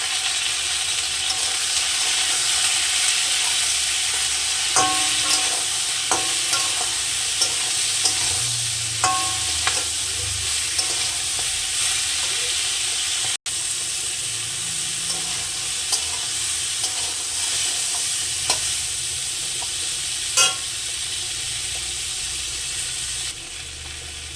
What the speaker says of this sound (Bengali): উচ্ছে পাতা দেওয়ার পরে আমি তরকারিটা একটু কষে নেবো